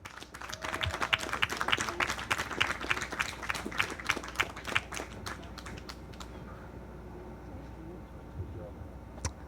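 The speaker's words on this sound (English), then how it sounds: "give you one final round of applause" Applause from an audience at a machinist training program graduation ceremony, a few seconds of faint, scattered clapping from a small crowd, fading out to quiet room noise.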